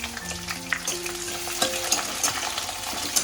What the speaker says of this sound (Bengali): পেঁয়াজ কুচিটা দিয়ে আমি মিনিট 2 একটু ভালো করে ভেজে নেবো